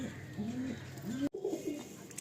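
Pigeons cooing, with a female Fulsira pigeon among birds kept for sale, in a steady run of low throaty coos up close over a soft background hum.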